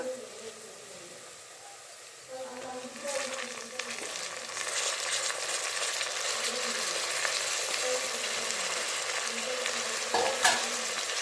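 Onions frying in a pan with mint and coriander leaves being stirred in, giving a steady soft sizzle that grows a little louder midway, with faint scraping, heard alone.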